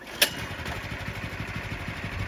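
Predator 212 small single-cylinder engine running steadily at idle, a low rhythmic putter close by with a brief sharp click near the start, no voices.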